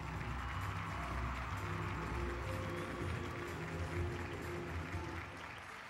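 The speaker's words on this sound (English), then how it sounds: "Like the imaginary audience that's cheering for us." A crowd of imaginary spectators in the video game No More Heroes cheers and applauds continuously at low volume, a steady wash of clapping and shouts.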